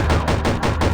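Rapid gunfire in a survival video game, heard as a loud, steady run of close bursts repeating roughly every fifth of a second, with no talk over it.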